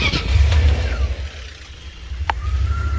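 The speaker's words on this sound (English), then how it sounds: "I have got to start and idle again" A cheap van engine idles steadily with a low, rough rumble, close by and fairly loud, with a brief high squeal near the end and no talking.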